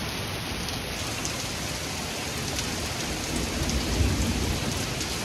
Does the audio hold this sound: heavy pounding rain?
yes